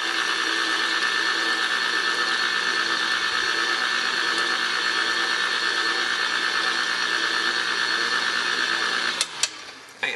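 An electric mixer blends blueberries into muffin batter with a steady, loud motor whir that holds evenly, then cuts off near the end with a couple of knocks.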